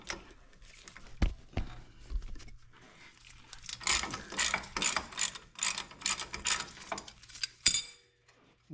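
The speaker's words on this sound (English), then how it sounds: "you've got to undo the two bolts here at the brake line" Ratchet wrench loosening the brake line bolts on a Jeep Gladiator during a Teraflex leveling kit install: a few metallic clinks and then a fast, close run of clicking pawl strokes, ending with a sharp clank.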